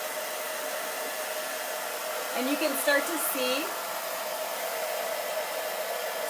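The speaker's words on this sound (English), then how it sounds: "with the blow dryer." A blow dryer roars steadily, drying a freshly painted, glittered snowman gift tag; a voice speaks briefly over the hum.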